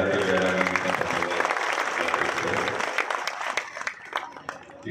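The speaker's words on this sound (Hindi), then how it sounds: "एक बार तालियां बजाते" Audience applause at a public function in Datia, a dense steady wash of clapping that runs the full length, thinning toward the end with a few louder individual claps, while crowd noise lingers underneath.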